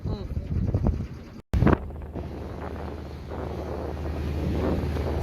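Wind buffets the microphone steadily around a sailing boat motor sailing through a choppy sea, with a brief dropout early on and a constant broadband rush under occasional faint talk.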